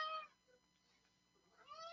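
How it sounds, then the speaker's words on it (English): A cat meows twice, brief tonal cries at the start and end separated by a quiet pause, fairly close but soft in a quiet indoor room. "Cat. It's a big black one."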